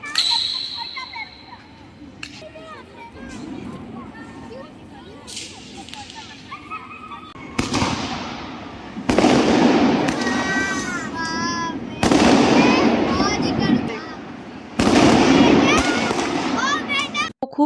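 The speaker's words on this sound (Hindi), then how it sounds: "थोड़े से ही पटाखे थे, देखिए कितने थोड़े से हैं" Diwali firecrackers and fireworks go off outside a home, with several loud sharp bursts followed by crackling and whistling sparkle tails, while people talk and children's voices rise through the noise.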